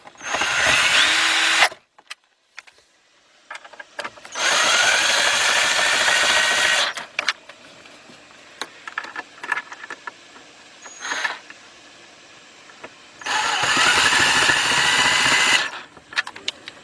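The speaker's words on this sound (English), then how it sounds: "let's get our cordless drill, which already got our setup on it, about 4 inch, 1/4 inch drive extension with our 1/4 inch drive 10mm swivel socket" A cordless drill fitted with a 1/4 inch drive extension and 10mm swivel socket tightens bolts on a 2000 Isuzu Rodeo 3.2: three loud, sustained whirring runs of a few seconds each, separated by quieter clicks and handling noise.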